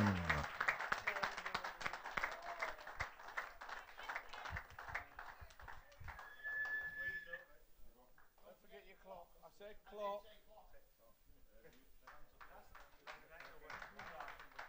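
An audience applauds the runner-up at an evening darts event in Cyprus with a sustained round of clapping, loud at first and gradually thinning out, while a voice speaks over the later part.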